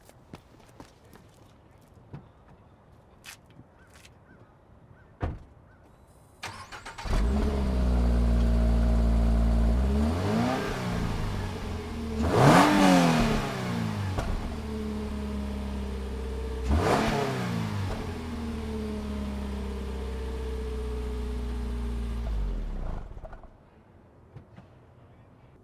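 A 2022 Toyota GR86 Premium with a 6-speed manual starts up, settles into a loud idle, then its exhaust rises through several sharp revs that climb and fall back before the engine shuts off, close and dominant.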